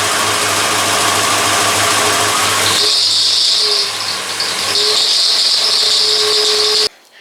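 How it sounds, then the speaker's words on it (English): A Volkswagen Golf Mk4 engine runs loudly as it is revved, with a shrill, sustained squeal rising over it, steady and close, cutting off abruptly near the end. "when you rev it up a little bit, it squeaks like crazy"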